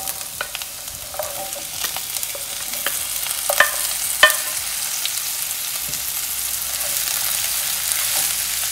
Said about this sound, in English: let the vegetables saute in this coconut oil till they become soft and tender